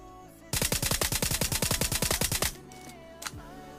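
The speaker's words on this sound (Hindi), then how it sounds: "तो इसके बाद मैं शॉट्स लेना जारी रखता हूँ" Automatic gunfire in a battle royale video game: a rapid burst of about twenty evenly spaced, loud, punchy shots lasting two seconds, then quiet and one more isolated shot a moment later.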